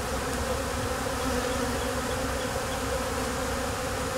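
Honeybees drone around their hive as they gorge on honey ahead of swarming, a dense, unbroken buzz of many insects that holds steady and close throughout.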